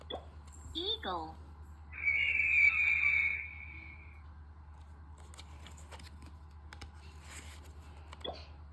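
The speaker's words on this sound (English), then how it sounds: "Eagle." An eagle gives a single shrill, sustained call lasting about a second and a half, clear and prominent, with a short spoken word just before it and quiet voices after.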